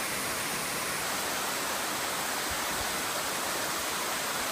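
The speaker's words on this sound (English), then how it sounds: "More waterfall action" A waterfall on the Appalachian Trail between Kinsman Notch and Mt Moosilauke roars close and steady, a dense broadband wash of falling water that never lets up.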